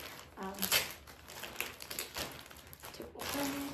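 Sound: crinkling packaging of a jewelry order being opened

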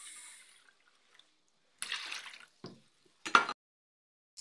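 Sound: warm water being poured for chapati dough

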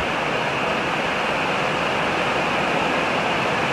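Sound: heavy rain falling

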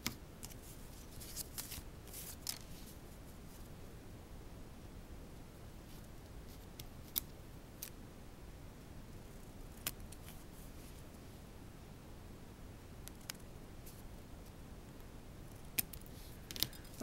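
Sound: scissors trimming tea bag paper corners

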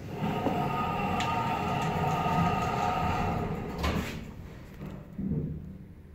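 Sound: 2002 Stannah platform lift doors closing

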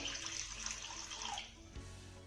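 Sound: water poured into a pan on the gas stove

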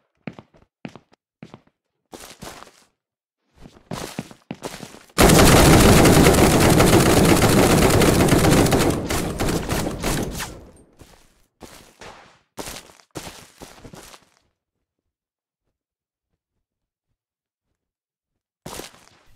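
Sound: gunfire in the video game Bad Way

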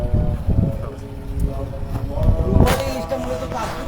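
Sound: ferry ship on the river at Chandpur

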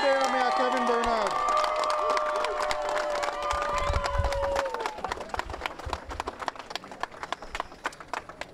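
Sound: crowd applause and cheering

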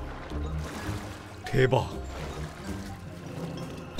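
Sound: water flowing in a cave in a Zelda video game

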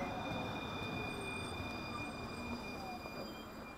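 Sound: new tram arriving at a stop in Tallinn

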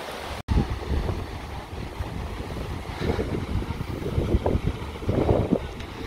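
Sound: rocky beach at Caló del Moro, Majorca

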